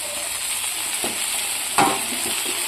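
Chukkakura greens and tomato fry in a pan with a constant hissing sizzle, broken by a few soft spatula strokes and one sharper scrape, close and alone without talk.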